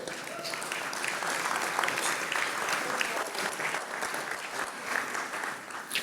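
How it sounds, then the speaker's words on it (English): Sustained applause from a large crowd, steady and dense clapping throughout with no pauses. "Thank you for your applause."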